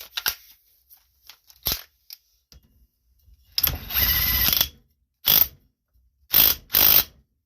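Ratchet tightening a pulley onto a Cub Cadet Super LT 1550 riding mower spindle, heard as scattered clicks and then several short bursts of rapid ratcheting close by, separated by quiet gaps.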